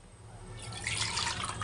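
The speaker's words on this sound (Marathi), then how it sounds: "मला पाहिजे तेवढं पाणी मी ॲड करते आहे." Water poured into a vegetable curry, a soft splashing pour that starts faintly and swells to a fuller, steady flow near the pot, with no speech.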